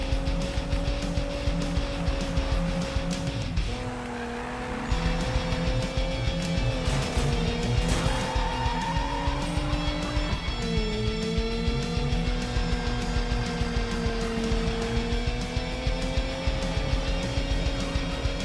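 Engine of a car being driven in the Need For Speed 2015 video game, a steady loud droning whine that rises and shifts with gear changes, with a brief dip in the middle, continuous throughout.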